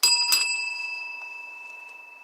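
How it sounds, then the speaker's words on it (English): Bicycle bell ringing twice in quick succession, bright and close, then a clear metallic ring that slowly fades out, with no voices. "We have bells."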